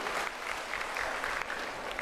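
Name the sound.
applause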